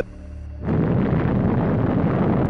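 An atom bomb explosion: a sudden deep blast that bursts in and sustains a loud, dense roar until the end.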